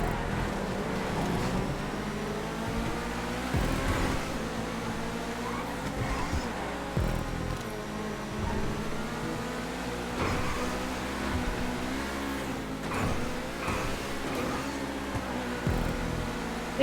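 Race cars in GTA 5 speed around a player-created track, a steady high engine drone with shifting pitch and repeated surges, loud and continuous for the whole stretch, with music-like tonal layers mixed in.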